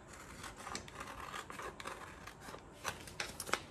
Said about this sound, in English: Let me finish cutting this apart.